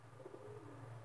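Racing pigeons in a breeding loft give low, rolling coos, a soft throaty murmur repeating close by against a quiet background.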